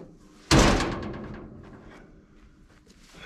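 A latch lever on a car panel pops open with one sharp, loud clunk, and the sound then fades into quiet room noise.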